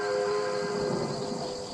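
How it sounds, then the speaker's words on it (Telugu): Train approaching in a Spider-Man video game, a sustained steady whistle-like tone with a constant rumbling wash underneath, loud and continuous without talk. "ట్రైన్ మళ్ళీ వస్తుంది"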